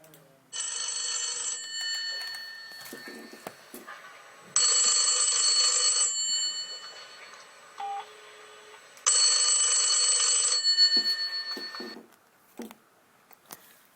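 A telephone rings with an incoming call in three loud electronic bursts of about a second and a half each, spaced a few seconds apart, with faint sounds between rings and no talk over them.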